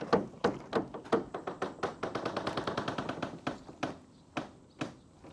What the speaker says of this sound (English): pop the release, pull the handle, and lower the door.